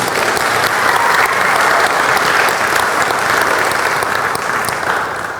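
A wedding congregation breaks into loud, sustained applause in a church as the newly married couple is welcomed, dense clapping holding steady for several seconds before easing slightly at the end.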